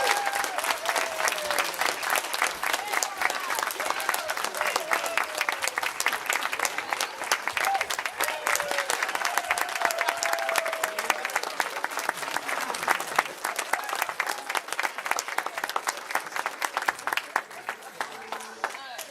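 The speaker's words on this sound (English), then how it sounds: "Another round of applause." An audience at a children's Christmas program claps in sustained, dense applause that keeps an even level throughout, with a voice briefly heard over it.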